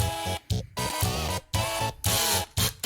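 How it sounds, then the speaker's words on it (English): Steam irons set off by a computer-triggered rig, releasing repeated loud hissing bursts separated by brief silent gaps, close and busy, with no talking. "Steam irons going off."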